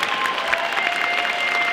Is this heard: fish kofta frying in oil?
no